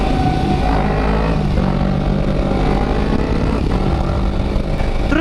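Motorbike being ridden, a constant loud engine drone mixed with wind rush, steady throughout at close range.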